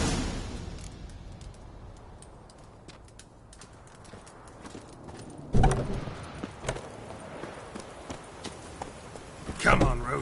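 Geralt's horse Roach walking in The Witcher 3, hooves clip-clopping faintly at first, then louder hoof thuds and a few sharp clatters, heard alone without talk.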